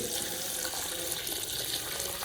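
Water pours steadily into a pot of softened peas and potatoes for Mumbai street-style ragda, a continuous close rushing splash lasting a couple of seconds with no talking.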